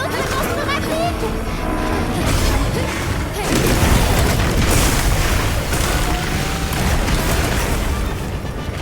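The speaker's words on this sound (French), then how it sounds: "une explosion violente vient remettre l'équilibre des forces" A violent explosion in the video game Monster Hunter Wilds during a fight with an Anjanath, a loud booming blast with rumbling debris amid dense game music and combat noise.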